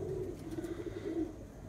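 Pigeons settling after a race flight coo in a soft, steady, low throaty murmur close by, continuous through the moment with no voices.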